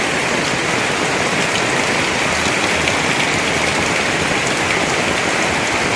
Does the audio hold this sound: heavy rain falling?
yes